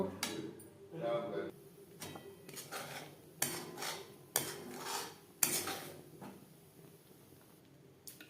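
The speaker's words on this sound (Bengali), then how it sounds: "এইভাবে অনবরত নাড়াচাড়া করে থকথকে করে নেব" Custard being stirred continuously in a pot as it thickens, with a utensil scraping and clinking against the metal in intermittent bursts, sometimes louder knocks, fairly quiet overall with a kitchen background.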